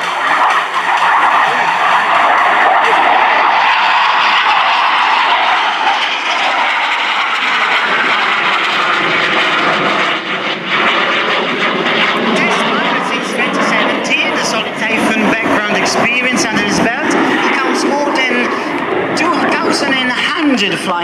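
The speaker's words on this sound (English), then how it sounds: "And it's Marco Lisi to fly his brilliant master." Loud, continuous roar of a T-346 Master jet trainer aircraft during a flying display at an air show. A public-address commentator talks over the jet noise throughout.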